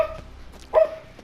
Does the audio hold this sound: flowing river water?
no